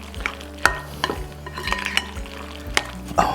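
Sauce stirred a little at a time into crawfish mac and cheese with egg and parsley: a close spoon scraping and squelching through the thick mixture, with sharp intermittent clacks against the pan.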